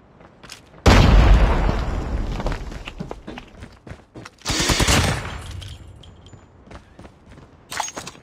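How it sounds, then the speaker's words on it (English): A loud grenade blast in the Call of Duty Mobile video game, followed by sustained automatic gunfire and a second heavy burst of shots and explosion, with scattered bursts fading through the rest of the scene. "Grenade out!"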